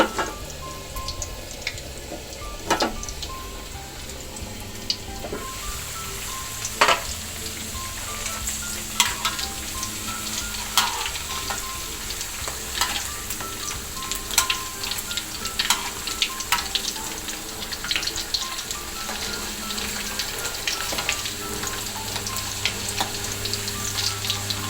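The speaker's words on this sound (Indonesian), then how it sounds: "kita akan goreng ya kentangnya." Potato pieces for Indonesian perkedel frying in hot oil, a steady close sizzle with scattered crackling pops throughout, no voices.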